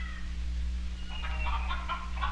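Chickens on a family dairy farm cluck in a quick, repeated series of short calls at moderate distance, over a constant low hum on an old recording.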